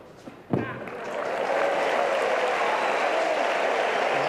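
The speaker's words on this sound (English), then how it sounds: "the crowd sarcastically give Ivan Lendl a big cheer there" Tennis crowd at the 1992 Cincinnati final, Sampras against Lendl, erupting in a sarcastic cheer for Ivan Lendl: a sharp burst of applause that swells into sustained loud clapping and cheering filling the stadium.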